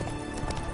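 Roach, the horse in The Witcher 3, with hooves clip-clopping in a brief close burst of a few steps.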